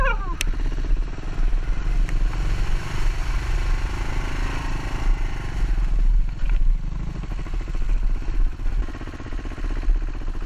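A Kawasaki KLR650 motorcycle rides off-road on an Illinois adventure trail, its engine droning loud and steady throughout with rough clatter and wind-like noise, and no voice.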